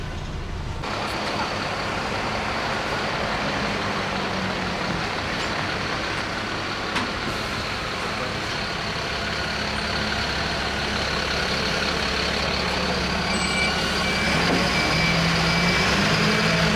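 Heavy trucks rolling down the ramp off an Irish ferry docked near Dublin, a steady low engine rumble and roadway drone filling the whole stretch, with a brief high tone near the end.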